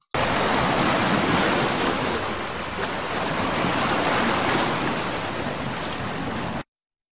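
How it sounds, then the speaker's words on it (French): Sea waves roll and wash continuously in a loud, steady surf roar with no pauses, cutting off abruptly at the end. "mer avec des vagues"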